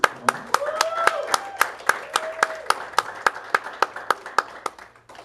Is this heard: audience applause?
yes